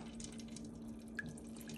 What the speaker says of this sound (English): I'm just rinsing them out a little bit, but check out the water.